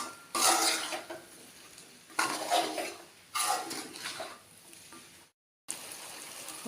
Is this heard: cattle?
no